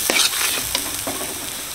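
Meat cooked with turmeric, cumin and red chilli powder for kosha mangsho fries and sizzles in a pan as a spoon stirs it in quick scraping strokes, close and fairly loud, with no talking.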